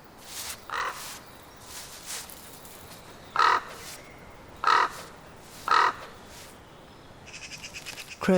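Several harsh caws from crows in a snowy winter landscape, three loud separate calls spaced about a second apart, with fainter calls before and a rapid run of calls at the end, no talking.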